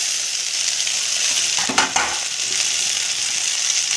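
Noodles frying with onion, cabbage and capsicum in a pan with soy, red chilli and tomato sauces, a steady close sizzle with a brief stirring scrape midway.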